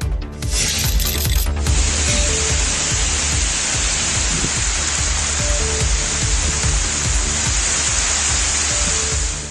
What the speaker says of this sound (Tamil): தஞ்சாவூர் மாவட்டத்தில் பல்வேறு பகுதிகளில் சூறைக்காற்றுடன் கனமழை வெளுத்து வாங்கியது